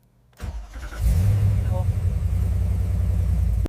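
A 90-year-old supercharged car engine cranks briefly, then catches and settles into a loud, low, rough rumbling idle, heard up close.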